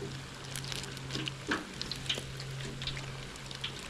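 Food frying in hot oil around 350 to 400 degrees in an outdoor fryer, giving a steady soft sizzle with scattered crackles and pops over a faint constant hum.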